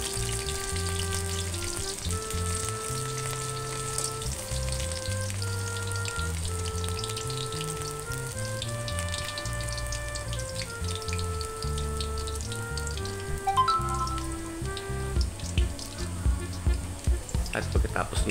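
Meat browning in a pan for Filipino menudo gives a steady sizzle under continuous background music, with a few sharper crackles near the end.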